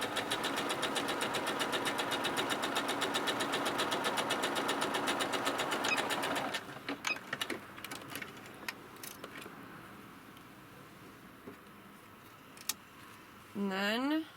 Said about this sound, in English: Alright, so I'm gonna sew this right now